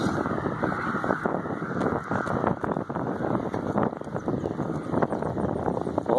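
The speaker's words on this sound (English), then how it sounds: "Oh, it's so windy" Strong wind blows during an outdoor walk home, a loud, constant rushing roar buffeting the microphone with no clear pauses.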